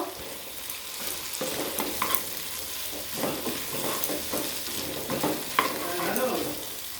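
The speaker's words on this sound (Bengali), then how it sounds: "আলুর সাথে সোয়াবিনটাকে একটু ভেজে নেব" Potato pieces and soybean chunks fry in a pan with little oil, giving a steady low sizzle broken by scraping stir strokes of a spatula at irregular intervals.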